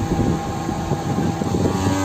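An Arduino voice-controlled air cooler fan runs at high speed, giving a steady, loud whoosh of rushing air with a constant motor hum throughout, alone with no talking.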